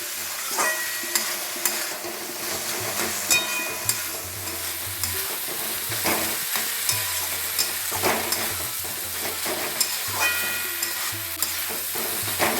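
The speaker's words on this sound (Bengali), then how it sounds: "মশলা মোচার সাথে গোবিন্দভোগ চালটা এবার বেশ কিছুক্ষণ কষিয়ে নেব" Gobindobhog rice frying with banana flower and spices in a pan, a steady close sizzle under repeated scraping stirs throughout, with no voices.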